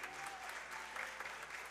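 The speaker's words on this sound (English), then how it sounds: "Y'all give her a big cheer as she comes." A church congregation gives a warm round of applause, steady clapping from many hands at moderate distance in the sanctuary, briefly and without a break.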